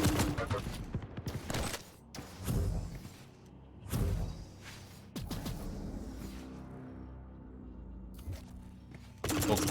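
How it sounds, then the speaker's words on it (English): Heavy machine gun bursts in a Quake Champions duel, several loud bursts of rapid fire with thuds and whooshes, heard under an ongoing commentator's voice. "Base ends up out damaging Kelts with a heavy machine gun."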